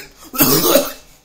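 A person coughs, a single rough burst of coughing heard close and fairly loud, with a hoarse, throaty edge and no talking around it.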